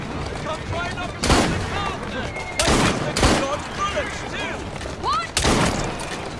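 Gunfire in the Assassin's Creed Syndicate video game: several loud, sharp shots ring out in uneven bursts over a busy game soundscape of background noise and effects.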